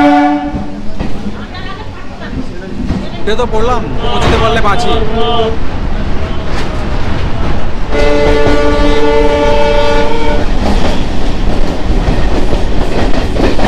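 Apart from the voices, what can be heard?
train arriving at Panskura Junction station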